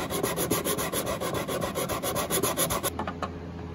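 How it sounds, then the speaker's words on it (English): Rapid back-and-forth sanding scrapes across the wooden neck joint of an acoustic guitar, close and rhythmic, stopping just before the end. "So we're gonna sand this part down a little bit more"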